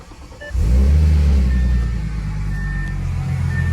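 An Audi A6 fitted with a 034 Motorsports 190mm lower pulley cranks and fires up, settling into a loud, steady low idle that fills the rest of the recording.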